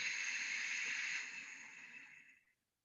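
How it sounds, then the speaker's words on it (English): A person demonstrates a breathing exercise, exhaling a steady hiss from the throat with the mouth closed, a close, airy hiss that holds level and then fades out over about two and a half seconds. "You have to make a hissing sound from the throat."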